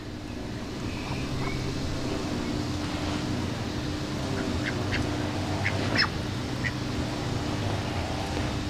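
Ducks quack and dabble in short bursts while feeding on orange Surinam cherry fruit, a few sharp calls standing out over a steady wash of water and outdoor background noise.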